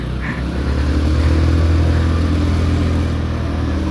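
Motorcycles rumble past on a village road in Sampang, Madura, a loud steady engine drone with a low growl that holds throughout and gradually fades slightly.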